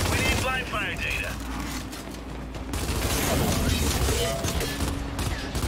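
Lancer rifle blind firing from cover in Gears 5, a dense, continuous stream of gunfire with mechanical clatter, loud and sustained throughout, with game voices talking over it.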